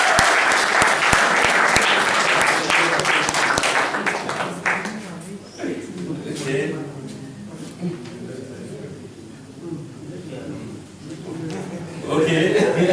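Audience applause at the closing ceremony of a five-year programme of activities in DR Congo. The clapping is loud for the first few seconds, then fades into voices and room noise, with talk under and after it.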